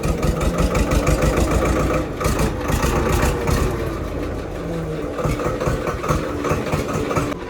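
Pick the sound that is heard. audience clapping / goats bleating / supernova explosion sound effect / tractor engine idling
tractor engine idling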